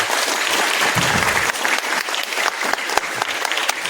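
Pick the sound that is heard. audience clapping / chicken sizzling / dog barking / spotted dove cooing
audience clapping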